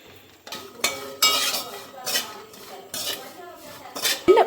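A spoon stirs fried raisins in ghee in a metal pan for dry fruit laddu, making repeated close clinks and scrapes against the pan in an uneven rhythm with a faint sizzle underneath.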